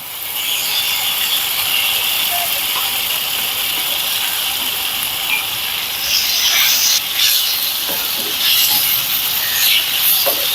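Soybeans fry with softened tomato in a pan, making a loud, steady hiss and sizzle throughout with occasional faint scraping stirs.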